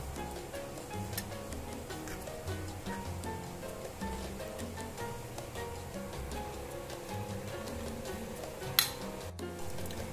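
Bell peppers and onion tossed into a paneer tikka marinade in a bowl, a steady soft clatter of stirring with occasional scraping and one sharp clink near the end.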